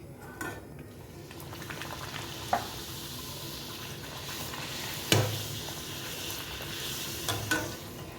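Puri deep-frying in hot oil over a high flame: a steady, close sizzle with occasional clinks and scrapes of a utensil stirring and turning the bread in the pan.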